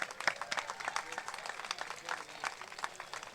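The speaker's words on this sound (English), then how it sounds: "Another round of applause for Bruno" An audience claps for a performer named Bruno at an annual ceremony, a moderately quiet, steady patter of many hands with uneven bursts throughout.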